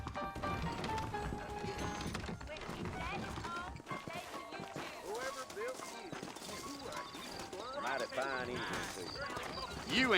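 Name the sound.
horses' hooves clip-clopping, from video game Red Dead Redemption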